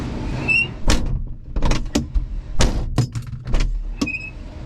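Several solid thuds of car doors shutting on a sound-deadened Nissan Sunny truck (Datsun 1200), spaced out over a few seconds, with light rattles and clicks between them, close by.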